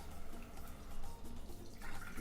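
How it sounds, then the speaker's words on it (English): Water poured into a pot of sautéing sofrito for vegan Puerto Rican pasteles, a soft steady splashing and sizzle, faint and continuous. "So now she's just adding in some water."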